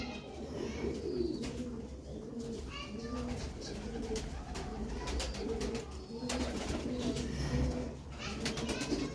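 Sialkoti rooftop pigeons coo in soft, repeated low burbles amid outdoor background noise and faint rustling, with no talking.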